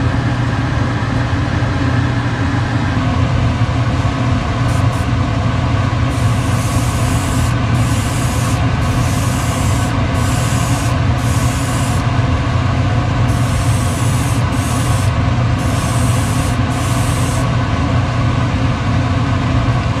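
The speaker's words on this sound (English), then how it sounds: "Turn on the extractor." A workshop extractor fan, running during spray painting of fishing lures with mirror chrome, gives off a loud, constant droning whoosh close by, with brief bursts of higher hiss on top and no talk.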